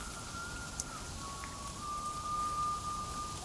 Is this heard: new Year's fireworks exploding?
no